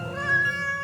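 A cartoon kitten gives one clear, close, high-pitched meow that rises slightly and holds for under a second, with no other sounds.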